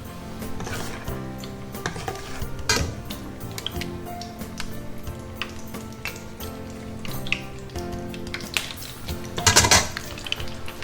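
Battered cheese appetizer frying in hot oil, giving a steady bubbling sizzle with scattered clinks and scrapes of utensils against a pot, and no talking.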